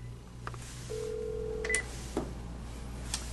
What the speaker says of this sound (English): if I dialed a station number, it would ring that station, and you can see it's ringing